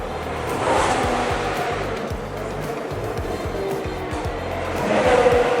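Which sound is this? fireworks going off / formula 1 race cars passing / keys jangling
formula 1 race cars passing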